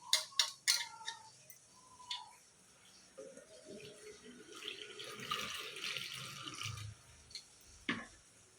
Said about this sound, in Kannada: ಈಗ ತೊಗರಿ ಬೇಳೆ ಹಾಕಿ ತೊಳ್ಕೊತಾ ಇದ್ದೀನಿ